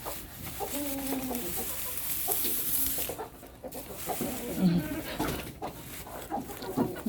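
Hens cluck softly in a poultry coop, with intermittent low clucks and scattered rustling and bumps in a quiet, close setting, all fairly faint.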